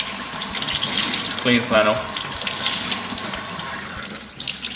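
Cold water runs from a tap into a sink for cleaning Nike Hypervenom Phantom II football boots, a steady close splashing stream while a person speaks briefly over it.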